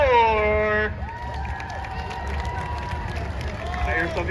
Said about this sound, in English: I hear some people just clapping for the shirt.